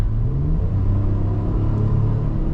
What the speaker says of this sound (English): The Nismo exhaust sounds really good.